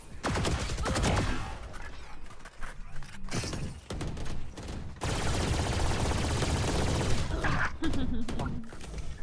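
Rapid bursts of shotgun and rapid gunfire in the video game Valorant, loud and dense, with sharp repeated shots and brief gaps between volleys, heavy and close.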